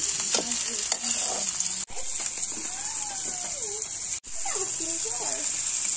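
Tomatoes sizzling and being stirred in a pan, a steady fry hiss with occasional scraping stirs, close up, while a person talks over the cooking.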